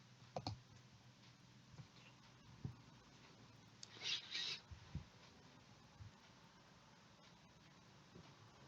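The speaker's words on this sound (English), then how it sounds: "you go ahead and click this battle button" Sparse, faint mouse clicks at a computer while playing the Splinterlands card game, single soft taps spaced a second or two apart, with one brief brighter burst midway.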